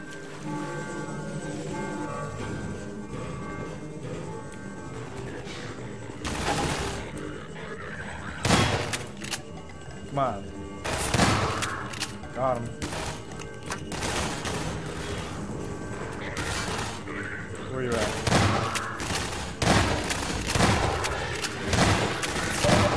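Gunfire in the video game Half-Life 2: Episode Two, with repeated bursts of automatic shots and sharp blasts cracking over a droning background, loud and close throughout the firefight.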